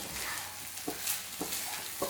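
Rice being stirred into chicken and egg in a pan for kids' chicken rice, a soft steady sizzle with a few scraping spoon strokes, close and fairly quiet, no talking.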